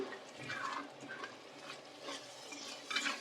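Faint stirring and scraping of tamarind fish curry being fried in a pan, a few soft utensil strokes with light sizzling in the background.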